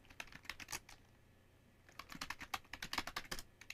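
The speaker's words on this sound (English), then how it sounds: "So you can type any internet address," Quiet bursts of keystrokes on a computer keyboard as a command is typed, two quick clusters of clicks separated by a short pause, close and soft.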